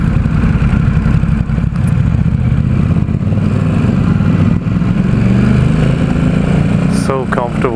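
A 2017 Ducati Supersport S engine drones loud and steady while riding in San Francisco, with wind roar over the rumble and a brief shift in pitch near the end.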